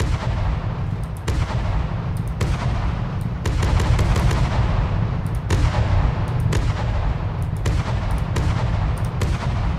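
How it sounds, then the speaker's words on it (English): Heavy cannon blasts from the game From The Depths boom repeatedly in a dense, continuous barrage, loud and rumbling, each shot sharp and overlapping the next. "That to me sounds like a tank gun."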